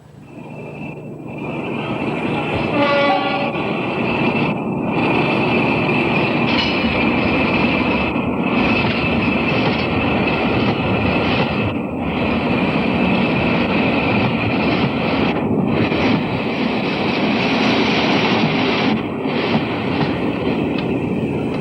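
The Orient Express train rumbles loudly and steadily along the rails, with regular rhythmic clacks and dips as the wagons roll past close by.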